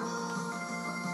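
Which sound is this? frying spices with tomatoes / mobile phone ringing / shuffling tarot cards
mobile phone ringing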